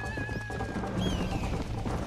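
A horse in Red Dead Redemption whinnies loudly and close, with hoof clatter mixed into the busy game sound over about two seconds.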